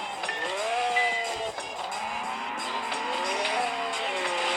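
Cars racing in a mobile game on a Xiaomi Redmi Note 9S, a continuous roar of engines rising and falling in pitch with tire squeal, steady and loud throughout with no talking.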